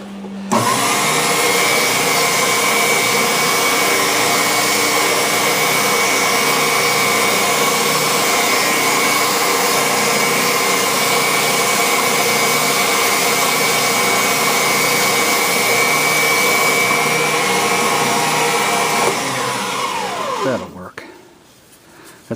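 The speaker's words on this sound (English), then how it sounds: "I really like this oscillating spindle sander for doing inside work." An oscillating spindle sander shapes inside work on a wooden playset piece, a loud steady motor hum with sanding noise running unbroken for about twenty seconds before winding down.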